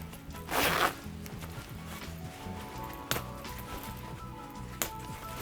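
A hefty Talon metal zipper on OG-107 military fatigues or an M-65 parka is drawn in a quick rasping pull, followed by a couple of sharp clicks, close and fairly loud.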